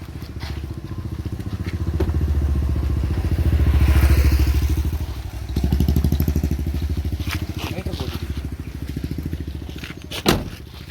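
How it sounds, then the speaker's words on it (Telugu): A car that was failing to start, after its battery had run low, cranks and then runs with a rough, rhythmic engine chug that rises and falls in loudness, ending with a sharp thump, while people talk nearby. "ఇప్పుడు ఒకసారి చూద్దాం, స్టార్ట్ చేద్దామంటే ఒకసారి."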